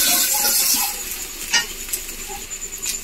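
Spice paste of ginger, garlic and green chilli sautéing in a pan, a bright hissing sizzle that fades somewhat, broken by a few spatula scrapes and light taps.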